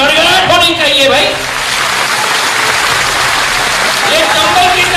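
At a political rally in Chambal, a large crowd claps in a dense, steady roar of applause. A voice speaks over it at the start and again near the end.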